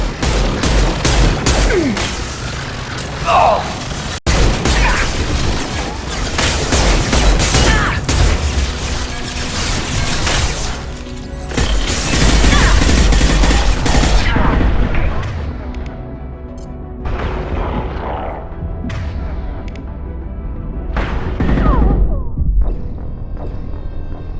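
Firefight gunfire in Mass Effect 2, with loud, continuous automatic shots and heavy booms for the first fifteen seconds, then sparser, separate bursts against a quieter background.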